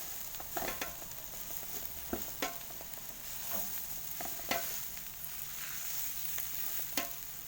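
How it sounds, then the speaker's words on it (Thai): Chili curry paste stir-frying in a pan for a nam ngiao broth, with a steady low sizzle and sharp scraping clicks from the spatula at an irregular rhythm, close and fairly quiet. "เราจะผัดให้พริกมีกลิ่นหอมแล้วค่อยใส่หมูนะคะ"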